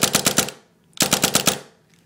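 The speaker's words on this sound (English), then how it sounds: "Now we're going to flip into full auto" Tippmann paintball marker firing on full auto: two quick, loud bursts of rapid, evenly spaced shots, each about half a second long, separated by a brief pause.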